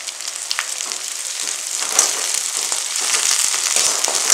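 Chopped onions with mint and coriander leaves sautéing in a pan for wheat rava biriyani, a steady crackling sizzle with scattered pops and faint stirring scrapes, close and alone without talk.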